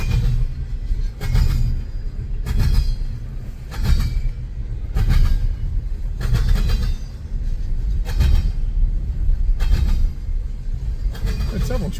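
Two CSX freight trains pass each other east of North Baltimore, Ohio, giving a continuous close rumble with rhythmic clickety-clack from the wheels rolling over rail joints.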